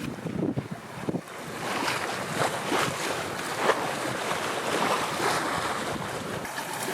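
A sailboat under a new mainsail moves through about 8 knots of wind, with a steady broad rush of wind and water, gusty microphone buffeting, and splashing waves, no voices.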